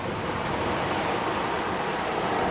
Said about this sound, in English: the sound of the sea on the shore or something like that